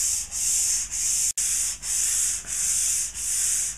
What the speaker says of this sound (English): In this case I'm using 240 sandpaper